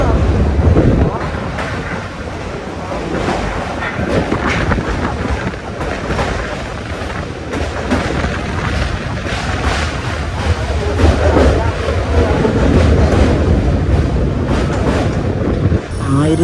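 A train runs along the 120-year-old Kollam to Aryankavu railway line in Kerala, a steady loud rumble with wind buffeting throughout and faint speech-like sounds mixed in.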